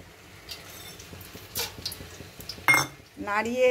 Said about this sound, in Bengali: এরপর আমি এটার মধ্যে দেব, দেখুন, 4টে এলাচ, দারচিনি, লবঙ্গ, জয়ত্রী।